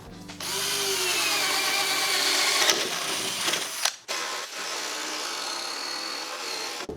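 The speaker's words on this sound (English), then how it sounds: "So let's cut our entry hole and go." A power tool whines loudly and steadily while cutting an entry hole in an instrument panel support for a Cessna 172, briefly cutting out before a second sustained run of cutting.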